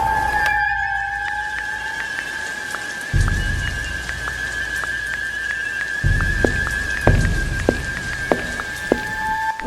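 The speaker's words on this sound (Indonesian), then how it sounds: "hujannya awet banget ya" Steady rain falls on surfaces with scattered drips and patters against a constant tonal hum, continuing without pause and with no talking.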